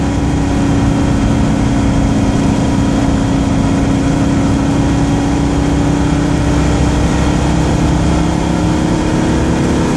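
A Citroën Dyane's engine drones loudly and continuously while climbing hills in top gear, a steady low labouring hum with no letup.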